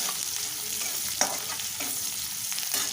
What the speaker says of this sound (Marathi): कांदा थोडासा परतून घेऊया आणि मग या शेंगा टाकायच्या